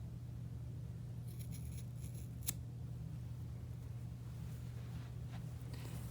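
Scissors snip through bracelet thread close by, a quick crisp cut or two against a steady low hum.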